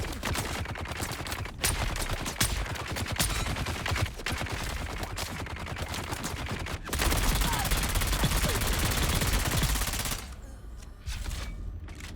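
Sniper rifle fire in the video game Dune: Awakening, a run of loud, sharp cracks repeating through dense game noise, then a brief quieter lull near the end.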